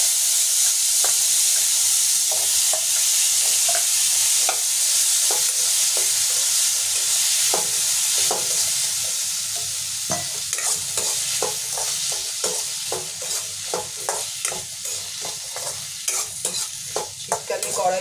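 Potatoes and dried red chillies fry in a hot pan while being stirred, a loud continuous sizzle broken by rhythmic scraping strokes that grow quicker and more frequent toward the end, with no talking.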